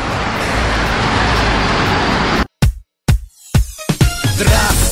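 Traffic rushes along the M4 highway near Usolye-Sibirskoye, a loud steady roar that cuts out abruptly, then a few separate vehicles whoosh past close by in quick succession.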